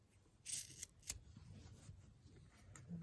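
Scissors snip through a bra's fabric in a quiet setting, a couple of crisp close cuts followed by faint rustling.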